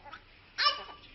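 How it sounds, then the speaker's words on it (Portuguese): A dog gives a single short bark, close and fairly loud, followed by a softer trailing whine and then a sharp yip right at the end. "eu tô ouvindo esse cachorro pedindo pra eu abrir uma gelada"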